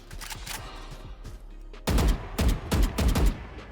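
Automatic gunfire in a shooter video game, quieter rapid shots during the first half, then several loud, punchy bursts of rapid fire close up from near the two-second mark on.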